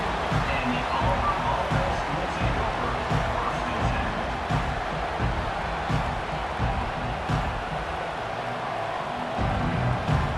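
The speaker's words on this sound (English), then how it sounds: "this home crowd is fired up and ready to make a difference today" A home stadium crowd roars throughout a College Football 25 game between Auburn and Clemson, a dense, steady wash of cheering, with an announcer talking over it.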